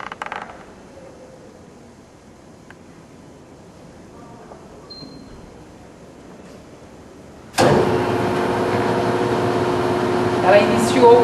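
A common rail diesel pump on a TM 508 test bench spins up abruptly partway through, after a quiet stretch, into a loud, steady mechanical whine and hum that runs on evenly; close and continuous.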